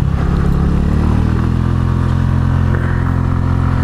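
A loud Honda Elite 125 scooter climbs a hill at full throttle while carrying a passenger, its engine holding a steady, strained high-rev drone with rattling close to the rider.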